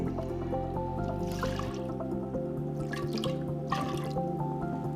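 Water pours steadily onto moong dal in a metal pressure cooker with soft dripping and splashing, over a constant low background hum.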